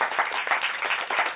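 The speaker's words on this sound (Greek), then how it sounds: "Ένα χειροκρότημα για τη Μαρία και τη Νίκη." An audience at a magician's show clapping for two volunteers, a close, brisk burst of applause with uneven rhythm.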